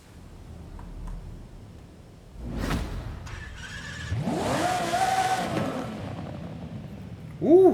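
In Forza Horizon 5, a restored car's engine revs up on a test drive, rising and falling in pitch through a couple of swelling pulls after a quieter start, ending with a sharp higher burst.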